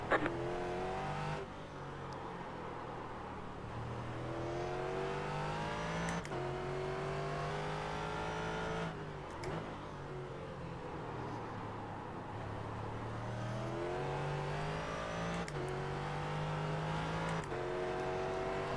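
Ford GT race car engine in iRacing at Interlagos, revving hard and repeatedly rising in pitch through upshifts, with brief lifts between gears, loud and close throughout.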